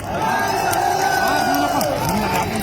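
A protest crowd at a road-blockade rally in Nagpur claps and cheers in a steady, dense wash of applause and whoops, with a voice carrying over the noise throughout.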